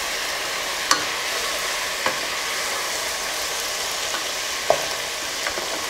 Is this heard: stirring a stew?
yes